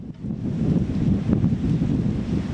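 Strong, roaring Super Typhoon wind in Santa Ana, Cagayan, buffets the microphone in a continuous low rumble, rising and falling in gusts with no voices.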